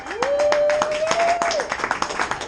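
Audience at a comedy night clapping in a brisk burst of separate hand claps, close and lively, with a voice calling out over it.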